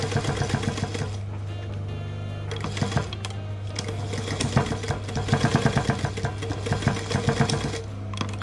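A sewing machine runs in short bursts, reverse stitching back over the edge of fabric for a crayon roll, with a rapid mechanical whir and clatter, a steady hum underneath and brief pauses between runs.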